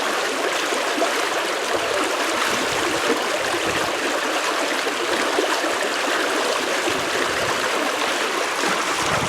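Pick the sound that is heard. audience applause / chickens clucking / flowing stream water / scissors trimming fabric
flowing stream water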